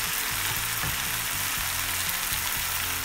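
Tomatoes frying and sizzling in a hot pan while cooking Hyderabadi chicken dum biryani, a loud, steady crackle with occasional stirring, close up and alone without any talk.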